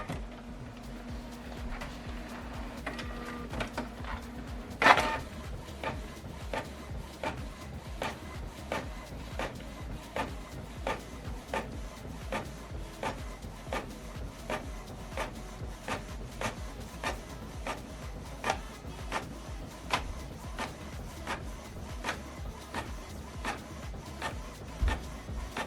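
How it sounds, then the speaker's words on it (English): A Canon PIXMA inkjet printer prints a page quietly, giving a steady series of regular mechanical clicks and soft whirring, with one sharper clunk early on. "So now this document is going to print out from this printer"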